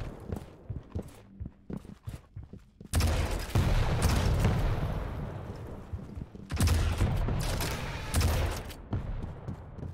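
Rockets fire and explode in a competitive Quake duel during a pro cup match, with sharp clicks and footsteps giving way to two long, loud stretches of booming blasts and gunfire.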